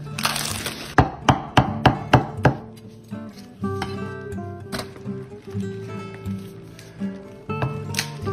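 A knife chops leftover smoked brisket into fine pieces on a board: about seven quick, evenly spaced, close chops, then quieter scattered cuts over steady background music.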